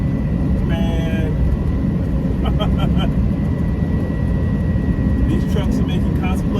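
Concrete mixer truck engine droning steadily from inside the cab while driving, a constant loud rumble with some brief rattling, and a voice talking over it.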